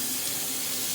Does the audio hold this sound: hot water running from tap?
yes